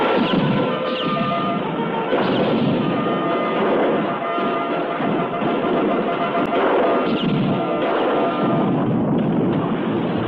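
Cannon fire in a pirate film battle: a dense, continuous roar of booming blasts, crashes and rumbling that fills the whole stretch, loud and unbroken, with shouted voices buried in the din.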